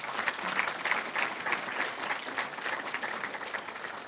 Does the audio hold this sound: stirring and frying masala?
no